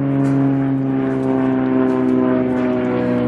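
Propeller airplane droning overhead above a winter garden, a steady loud hum with strong harmonic tones throughout, no talking.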